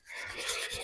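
Sandpaper rasps against a hidden beam of a Subaru rally car being rebuilt from a wreck, prepared before matte black spray paint; a short, steady, close scraping stroke with no voices.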